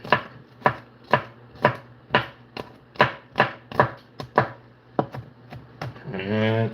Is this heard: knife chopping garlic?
yes